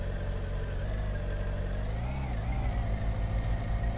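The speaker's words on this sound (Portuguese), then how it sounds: "só escutou o barulho do carro" A steady car engine in the video game My Summer Car drones at mid pitch, rising briefly as it revs, heard close and alone with a synthetic, game-like quality.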